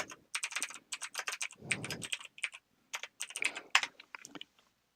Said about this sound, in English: If I type a simple question into this